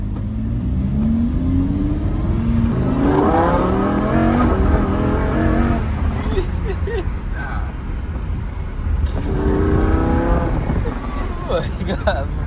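A Lamborghini engine revs loudly and roars continuously from close up inside the car, with crackling exhaust pops breaking through, while excited voices talk over it.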